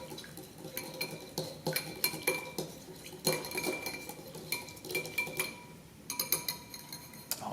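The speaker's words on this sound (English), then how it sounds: "And then we're just going to mix that up a little bit." Snickerdoodle mug cake batter mixed with a utensil inside a mug, giving repeated close clinks and scrapes of metal against ceramic in an uneven rhythm, with no talking.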